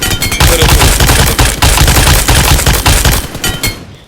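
Rapid automatic gunfire in the mobile game PUBG Mobile, loud and close, with dense bursts of shots rattling almost without pause before tailing off at the end.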